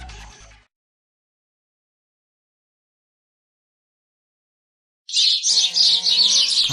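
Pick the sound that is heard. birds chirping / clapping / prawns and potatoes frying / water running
birds chirping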